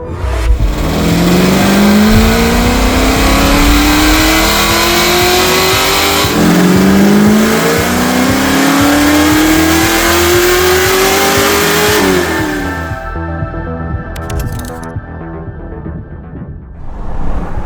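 A Nissan S13 drift car's engine revs hard and loud on a dyno, rising in long pulls twice before dropping back to a rough, lumpy idle, with no talk over it.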